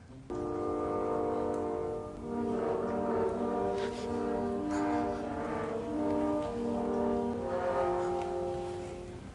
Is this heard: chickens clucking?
no